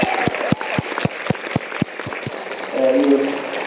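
Concert audience at a Brazilian fife ensemble show applauding a musician: a few sharp, regular hand claps ring out first, then a broader crowd applause swells near the end with some voices.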